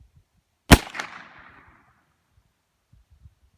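A single loud shot from a Pedersoli Pennsylvania Scout .32 caliber percussion muzzle-loading rifle, a sharp crack followed by a brief rolling echo that fades within about a second.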